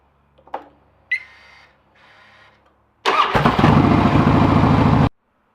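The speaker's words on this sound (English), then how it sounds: "Start the bike back up, run it for a minute or so." A Harley-Davidson big twin motorcycle engine is cranked after an oil change and catches, settling into a loud, close, lumpy idle for about two seconds before cutting off abruptly, with a few faint clicks and mechanical noises before it.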